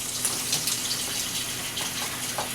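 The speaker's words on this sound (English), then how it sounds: "I'm going to put this in the sink and turn the hot water on" Hot water gushes from a sink tap in a steady, close splashing rush with slight fluctuations, with no one speaking.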